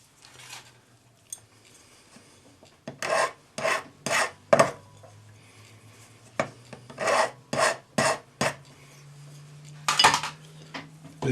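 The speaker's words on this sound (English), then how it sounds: "File the ends flat, bracing it against your bench peg." Metal file rasping across the ends of an earring braced on a jeweller's bench peg, in repeated short bursts of strokes with brief pauses between, close and fairly loud, with no talk.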